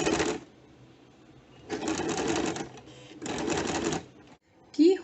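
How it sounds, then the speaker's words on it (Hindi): A sewing machine stitches a garment neckline in home tailoring, running in three steady whirring bursts separated by short pauses, with a brief clatter at the end. "तो इस तरह से हम इसको स्टिच कर देंगे।"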